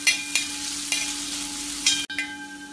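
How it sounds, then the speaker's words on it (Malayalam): Thinly sliced onion stir-frying in ghee for a prawn clay pot biryani, a soft steady sizzle broken by a few sharp stirring clacks against the pan, close and with no voices. "ഇതിനി ഇളക്കി ഫ്രൈ ചെയ്യാം"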